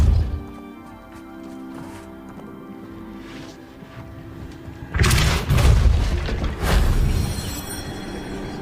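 The Depulso spell from Hogwarts Legacy, cast as a loud booming blast that gives way to several rough crashing impacts over a few seconds, after a quieter stretch of low game ambience.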